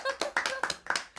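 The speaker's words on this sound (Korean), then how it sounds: "아, 박수." Hand clapping at home by a family with children, a handful of quick uneven claps over about a second, close and moderately loud, with voices mixed in.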